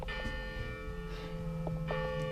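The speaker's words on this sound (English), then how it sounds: "That church bell every single time." A church bell rings at a distance, its tones faint and sustained with a few soft knocks and rustles nearby.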